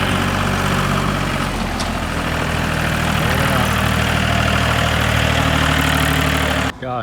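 Ford F150 Platinum with the 3.5 EcoBoost engine and MBRP exhaust idling, a loud, steady low rumble held close and constant, cutting off abruptly near the end.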